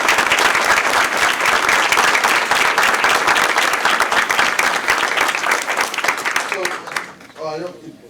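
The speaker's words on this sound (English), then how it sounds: "if we could just have another round of applause for them" A town council meeting audience claps in a dense, sustained round of applause that tapers off near the end, with a voice briefly starting up as it fades.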